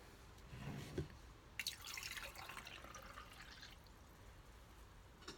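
Cold water, around 20 degrees Celsius, poured into a prototype heating vessel, heard as a steady close splashing and trickling that begins with a few drips and runs on without talk.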